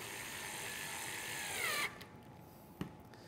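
A power driver whirs steadily as a screw goes into a pass point assembly on an extruded rail for a Commander Extreme gate, then cuts off, followed by one sharp click.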